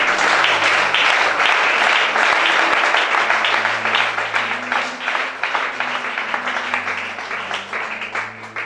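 Congregation applauding during a deliverance church service, sustained dense clapping throughout with a low hum of music or voices underneath.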